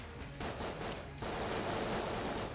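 Rapid automatic gunfire from the Betrayer's gun in the video game Enter the Gungeon, a dense continuous burst of shots that pauses briefly and then resumes louder, with no talking.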